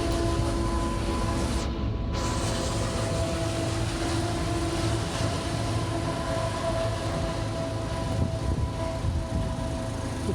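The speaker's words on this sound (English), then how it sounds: "We got a food truck and a train, so I'm not sure if you can hear any of this." A train passes steadily through the whole stretch, a continuous rumbling roll with faint tonal hums, fairly near and loud, no talking over it.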